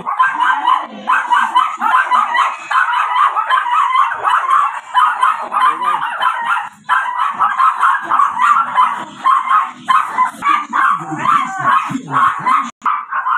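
A dog in a home in Tondo, Manila yips and barks rapidly and persistently, high-pitched and close, with whining howls mixed in over several seconds.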